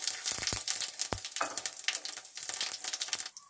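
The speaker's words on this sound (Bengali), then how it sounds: "কড়াইতে তেল দিয়েছি তেজপাতা জিরে ফোড়ন দেব এই দিয়ে দিলাম" Crackling sizzle of bay leaf and cumin hitting hot oil in a pan, a dense steady hiss with sharp pops and a few clinks, close and fairly loud.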